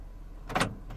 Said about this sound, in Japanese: パワーウィンドウは運転席のみ自動全開閉ができます。